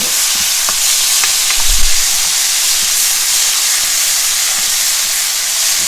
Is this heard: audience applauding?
no